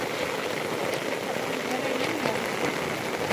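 Rain falls steadily in a downpour, a continuous close hiss of drops pattering on surfaces with faint scattered splashes, no voices rising above it.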